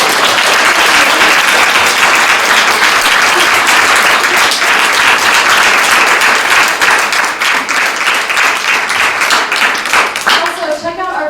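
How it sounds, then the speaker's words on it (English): Campus crowd at UW-Madison giving a loud, sustained round of applause for a speaker named Guy. The dense clapping runs throughout and thins slightly near the end. "Please give another round of applause for Guy."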